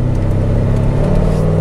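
A vehicle with a 4L60E automatic transmission pulls away in first gear, its engine holding a steady, loud low rumble from start to finish of the brief stretch.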